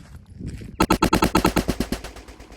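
A SIG M17 pistol fires 124 grain Federal HST standard pressure rounds in a rapid string of about a dozen loud, sharp shots at a steady quick rhythm, each with a short ring-out, after a brief quiet lead-in.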